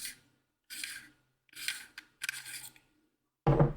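A Sabertrio Neopixel lightsaber pommel is twisted off by hand in several short, close scraping rasps of metal threads, ending in a sharper clunk.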